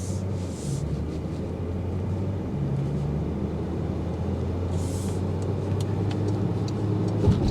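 Cabin drone of a 2022 Porsche Panamera 4S Sport Turismo with a twin-turbo V6 and 8-speed automatic, driven normally: a steady, low, muted engine and road hum, even and continuous with faint ticks, close but quiet.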